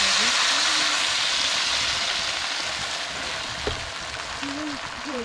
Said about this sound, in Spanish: Ya está hirviendo ya.